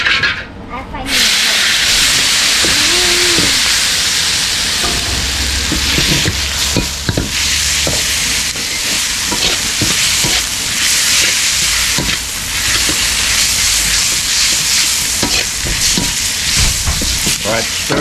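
Pad thai frying in a pan, a loud continuous sizzle and hiss with scraping stir strokes and clatter of the utensil against the pan, close up, with brief talk in the background.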